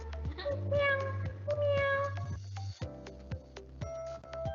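A cat meows repeatedly in a close, loud series of drawn-out cries, with brief pauses between calls and a low steady hum underneath.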